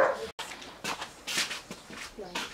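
A dog barks at a balloon near an inflated trampoline at home, giving several short yapping barks and whimpers close by, mixed with people talking.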